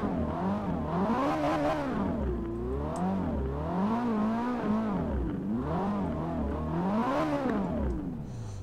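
A Ferrari 458 Speciale engine in Forza Horizon 4 revs repeatedly, its pitch climbing and falling in several loud, close waves, with no talk.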